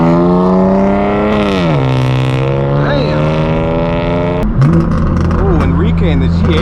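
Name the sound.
BMW G80 M3 exhaust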